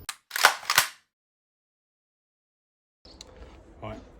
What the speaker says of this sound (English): Let's take some practice shots.